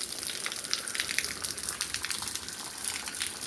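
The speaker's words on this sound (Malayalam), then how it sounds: "മേലെ ആ ബാത്റൂം അത് ക്ലീൻ ആക്കുന്നുണ്ട്, അതിൻ്റെ വെള്ളം" Water running and splashing down from an upstairs bathroom being cleaned in a house, a steady rushing gush that continues throughout without any voices.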